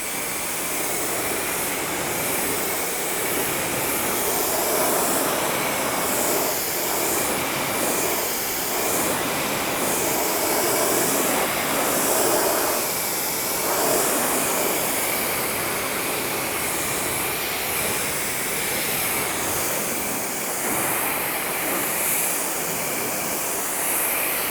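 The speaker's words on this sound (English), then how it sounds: "So we're going to get the pressure washer. We're going to rinse it off." Pressure washer rinsing down a car after a ceramic shampoo wash, a steady loud hiss of spraying water that runs continuously with slight swells as the jet moves across the bodywork.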